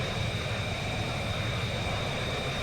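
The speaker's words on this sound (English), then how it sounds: "it got louder because now I'm exposed to open jet engines" Jet engines in the VTOL VR flight game roar steadily with the cockpit canopy open, a loud, unbroken broadband rush that holds level from start to finish with no voices over it.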